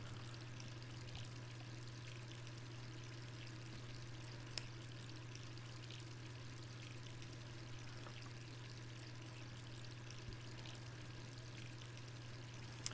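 Tap water running steadily in Resident Evil 3 Remake, a constant low pour with a faint trickling wash over it, unbroken for the whole stretch with no voices.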